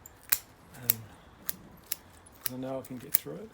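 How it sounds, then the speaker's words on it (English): Scissors snipping through the roots of a trident maple bonsai during repotting, several crisp, close metallic snips at irregular intervals, with a person talking between the cuts. "so I'm going through it with my scissors"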